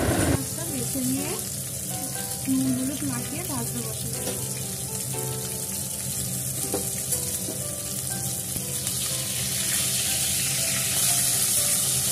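Pomfret fish fry in hot oil in a pan, giving a steady close sizzle that runs throughout, with brief clinks and a faint voice in the background.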